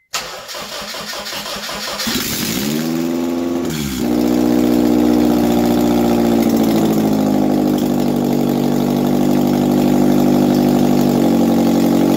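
A car engine cranks for a couple of seconds, catches, and settles into a loud, steady, slightly rough idle with no exhaust fitted, running on unchanged.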